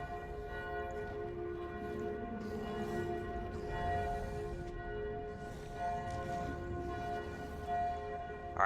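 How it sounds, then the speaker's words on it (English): Sustained bell tones ring out in the video game Dragon Age: The Veilguard, a steady layered hum of harmonics holding for several seconds over a low rumbling ambience, moderately loud with no talk. "Alright, listen to the bell"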